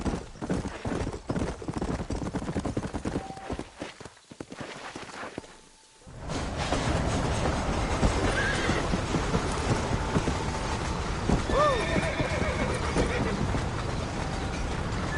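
A horse in Red Dead Redemption clip-clops along at a steady pace, then a clear neigh rings out, a short near-silent gap falls midway, and the hooves and ambience continue after it.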